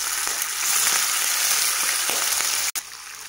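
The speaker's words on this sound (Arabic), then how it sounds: "نعطيه تحميره على الوجهين" Pieces of meat brown in oil in a frying pan, a loud, steady close sizzle with a brief clack partway through as they are turned.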